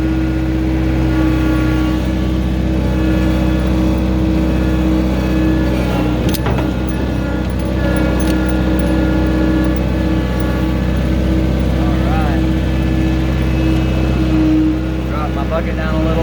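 A New Holland L555 skid steer idles high with a steady, loud, close engine drone and some rattling and clanking, while someone talks over it.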